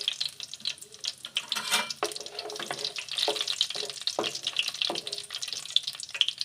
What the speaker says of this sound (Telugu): ముందుగా ఆవాలు, జీలకర్ర ఇవి కాస్త ఫ్రై అయ్యాక